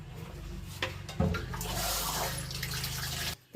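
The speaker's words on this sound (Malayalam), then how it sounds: "ഇത് നിറച്ച് വെള്ളം ഒഴിക്കാൻ പോവണം കേട്ടോ" Water pours steadily into a container for storing fresh fish, about three seconds, a close, full rushing splash over a low hum, then stops abruptly.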